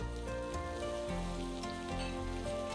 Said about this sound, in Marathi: आता शेंगा आणि बटाटे छान धुवून घेतलेले ते आपल्याला तेलावर घालायचे।